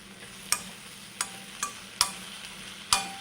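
Raw mango and salt scraped and stirred in a pan, giving five sharp spoon-on-metal clinks spread unevenly over a few seconds above a faint, steady sizzle, with no talking.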